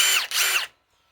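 A Ryobi PSBIW25 compact impact wrench, powered by an 8 amp 21700-cell battery, drives a 5/16 by 3 inch galvanized lag screw. It gives a loud, close, high-pitched burst of under a second that cuts off into near silence.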